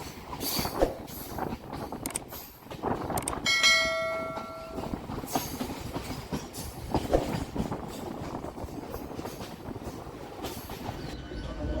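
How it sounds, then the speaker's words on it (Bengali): A Howrah-Amta local train rolls steadily toward Baltikuri junction and curves left, its wagons rumbling with clattering wheels, a brief tonal squeal or horn-like harmonic tone near the middle, and continuous rail noise throughout with no talk. "আমাদের ট্রেনটা পুরো বাদিকে টার্ন করে যাবে কোনা স্টেশনের দিকে"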